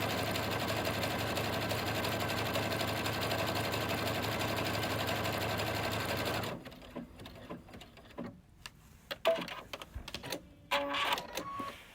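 Luminaire/Solaris sewing machine stitching a zigzag taper stitch: a rapid, even mechanical whir for about six seconds, then it stops, followed by quieter clicks and handling knocks.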